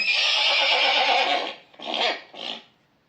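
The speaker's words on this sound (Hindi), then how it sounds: "यहाँ अश्व है, घोड़ा।" Horse neighing played by a touch-activated horse figure at a Bhagavad Gita display, one long loud whinny followed by two shorter snorting bursts, no talk.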